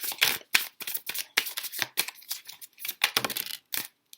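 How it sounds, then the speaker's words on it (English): A deck of tarot cards shuffled by hand up close, a rapid series of crisp riffling bursts and flicks with short silent gaps between them, loud and alone with no talking. "let's just shuffle all the cards out first"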